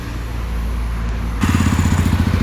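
A 2024 Jawa 300CL twin-cylinder four-stroke motorcycle cold starting nearby, a loud steady idle that shifts midway into a faster, pulsing rhythmic exhaust thrum.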